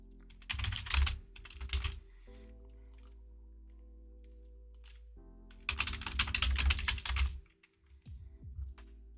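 Keys clatter on an old computer keyboard in two brisk bursts of rapid typing, close and fairly loud, separated by a quiet pause with a steady low hum underneath.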